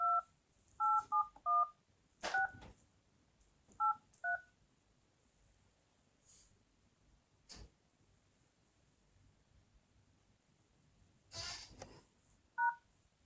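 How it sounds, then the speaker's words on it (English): Telephone keypad tones dialing into a conference call, a quick burst of several beeps, then a couple more spaced single tones, faint clicks and rustles between them in an otherwise quiet room. "Did you tell Jen we're dialing back in?"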